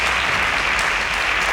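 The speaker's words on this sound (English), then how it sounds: "A round of applause for Jessica." Dense, steady applause fills a quiz-show studio for a contestant on a student science competition, loud and continuous from start to finish.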